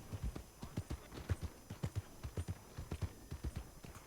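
Steady hooves clip-clop in a quick, even rhythm, close and fairly quiet, like a horse trotting on hard ground in Red Dead Redemption 2.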